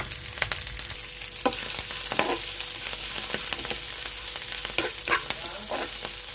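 White gelijeru leaves for chutney fry in a pan with a constant soft sizzle, punctuated by scattered scraping stirs of a spoon, close and moderately loud.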